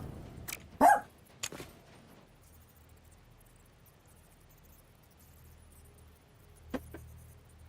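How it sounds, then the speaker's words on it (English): A female dog barks indoors, giving a few sharp, close barks near the start and another later, separated by quiet stretches of faint room noise. "I've got a dog that thinks she needs to bark at everything."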